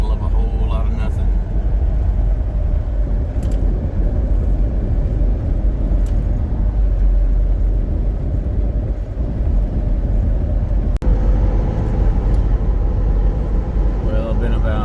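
Steady low road rumble and tire roar fill a car cruising on a highway near Guymon, Oklahoma, continuous from start to end, with a voice talking over it.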